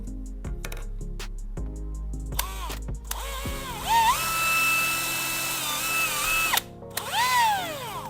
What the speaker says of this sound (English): I mark one point at each end and drill a hole through.